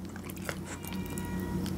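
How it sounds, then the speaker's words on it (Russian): A cat's meowing cries, faint and somewhat distant, over a low steady hum in a quiet room. "Кошка орёт."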